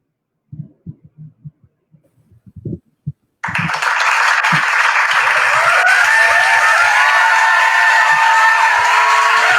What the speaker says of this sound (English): It's the entire internet clapping.